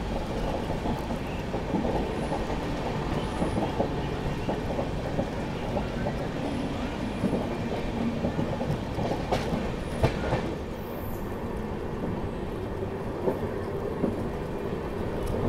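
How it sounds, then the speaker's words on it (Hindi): An Indian passenger train runs steadily on rails near Dasna railway station, with a continuous rumble and clickety-clack of wheels and a few brief squeals and clanks midway. The sound carries without pause for the whole stretch. "यहाँ पे हमारी क्रॉसिंग होगी श्रमजीवी एक्सप्रेस के साथ"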